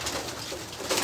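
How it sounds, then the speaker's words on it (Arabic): Homing pigeons are released at the start of a race, cooing close by amid a steady rush of fluttering wings and outdoor noise. "نبدا انطلاقه الحمام الزاجل"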